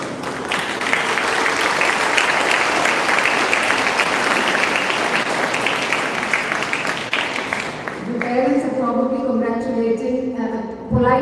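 Applause from an audience at a school event fills the first eight seconds, dense and steady, before giving way to talk as the clapping fades.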